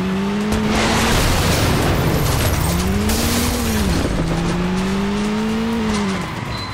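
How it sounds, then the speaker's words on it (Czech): A revving car engine in the Crashday racing game, loud and close, its pitch rising and falling through gear shifts for several seconds, with some skidding texture. "zvuky auta, raket a všeho takového je trošku hlučný"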